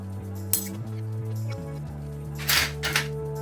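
Small metal plates from a vintage overlocker's accessory tin clink and chink against each other as they are handled, a few bright metallic taps over a steady hum.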